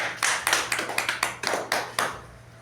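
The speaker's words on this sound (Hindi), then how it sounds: "एक जोरदार ताली" About a dozen sharp, evenly spaced hand claps ring out at a meeting, sounding like one or a few people clapping close by over a faint low hum.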